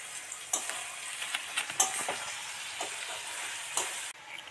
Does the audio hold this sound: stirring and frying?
yes